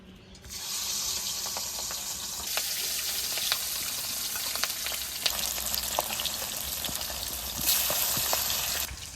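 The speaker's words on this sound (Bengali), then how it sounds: "কড়াইতে তেল দিয়েছি, তেলটা গরম হয়ে গেছে, এবার মাছগুলো আমি ভেজে নেব।" Silver carp frying in mustard oil in a kadai, a loud continuous sizzle and spatter close up, with scattered pops and a surge of hissing toward the end, no voices.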